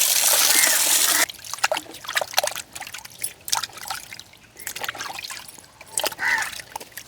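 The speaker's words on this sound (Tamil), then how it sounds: "நாங்கள் வடிவாக இதை கழுவி எடுப்போம் நல்ல வடிவாக அலசி கழுவுவோம்" Goat trotters are washed and rinsed by hand in water after soaking, for village-style soup, with close sloshing, trickling and splashing in irregular bursts after a brief hiss at the start.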